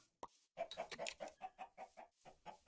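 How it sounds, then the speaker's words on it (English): Minecraft chicken clucking in a video game, a quick run of about a dozen short, loud clucks in rapid rhythm after a brief opening note, heard alone. "That was a loud chicken."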